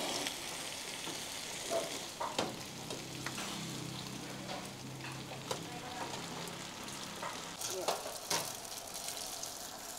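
Food pan-seared in a frying pan at a busy vegetarian hotpot restaurant, a close, continuous crackling sizzle with scattered clinks and scrapes of a spatula as it is turned, while people talk over it.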